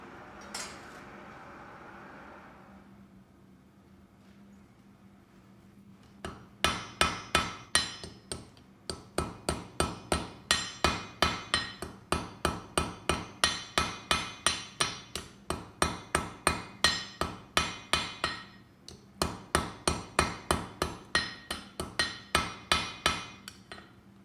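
Hammer forging a steel heart on the edge of an anvil, about forty sharp ringing metallic strikes in a steady quick rhythm with a few brief pauses, close and loud, after a few seconds of quiet.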